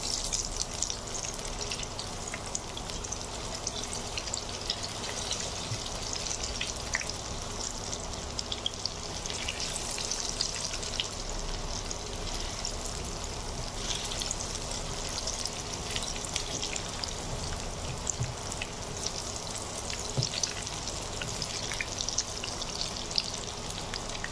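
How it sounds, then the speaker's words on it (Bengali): Continuous close-up crackling of cauliflower pakoras deep frying in oil, steady bubbling and popping throughout with no voices. "ফুলকপিগুলো বিভিন্ন সাইড থেকে উল্টে উল্টে একটু ভেজে নিতে হবে।"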